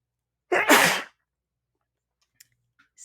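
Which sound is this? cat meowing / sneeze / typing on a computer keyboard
sneeze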